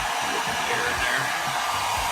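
Heat gun blowing hot air onto smoked vinyl wrap on a Porsche tail light, a steady close whooshing roar that stays constant throughout with no talking.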